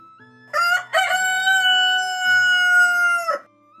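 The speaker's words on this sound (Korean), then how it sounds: "어디선가 닭이 목척껏 내지르는 소리에 집안 사람들은 잠이 깼어요." A single loud rooster crow rings out nearby, one long drawn-out call against a quiet background.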